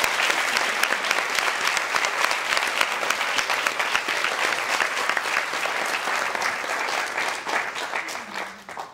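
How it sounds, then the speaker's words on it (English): An audience at a public health research institute event applauds its participants with a sustained, loud, dense round of clapping that continues steadily and tapers slightly near the end. "join me in giving them a big round of applause"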